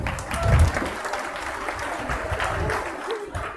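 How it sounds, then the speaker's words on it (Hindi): A classroom of students applauds a pupil's good answer in a history lesson, a short burst of clapping from nearby that peaks early and then carries on at a steady level for a few seconds. "एक बार इनके लिए ताली बजाओ।"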